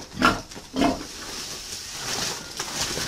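A male wild boar being caught by hand grunts, with two sharp, close grunts in quick succession followed by softer snuffling and rustling in a rural outdoor setting.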